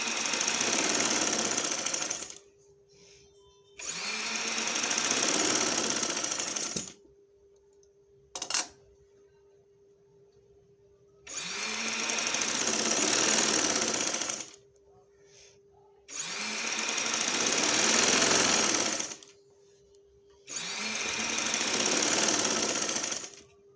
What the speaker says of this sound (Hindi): ऐसे आपने सारी सिलाई जो है वो कंप्लीट कर लेनी है।